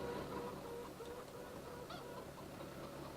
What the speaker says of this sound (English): I suppose that's what happens when you have chickens free-ranging like this.